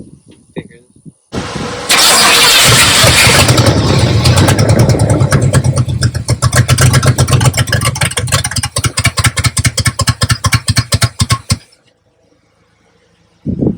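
A 1972 Buick Riviera boat tail with a failed fuel pump cranks hard without catching: a loud, rhythmic starter churn that runs for about ten seconds, pulsing faster toward the end before stopping abruptly, with brief talk before it.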